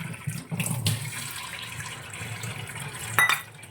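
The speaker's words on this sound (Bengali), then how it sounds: "আর একটু জল দেবো ঠান্ডা জল" Cold water poured onto soaked sago pearls in a kitchen, a steady running splash with a brief louder gush near the end, close by and alone without talk.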